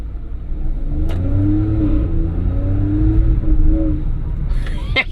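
Hyundai car with a 7-speed dual-clutch gearbox accelerating in sport mode, a steady mid-pitched engine note rising and holding loud from inside the cabin, with a brief click near the start and end.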